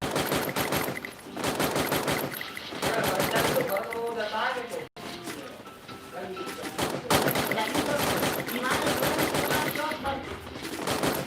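Rapid bursts of automatic gunfire from a shooting video game rattle through the whole stretch, loud and dense with a brief gap partway, while players talk over the shooting.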